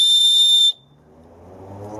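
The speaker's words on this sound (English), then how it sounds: "This also incorporates a small whistle" A small whistle built into a Swiss Army fire steel gives one shrill, loud blast lasting under a second, then falls quiet into faint low room noise.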